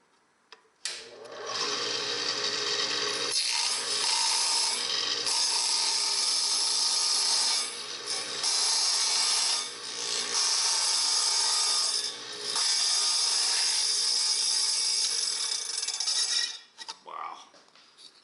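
A Byrnes Model Machines mini table saw cuts through ABS plastic sheet, a steady high whining buzz in several sustained passes with brief dips between them, close and loud, ending with the blade spinning down.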